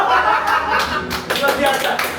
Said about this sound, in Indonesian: Sampai yang katanya sorcerer di sebelah tepuk tangan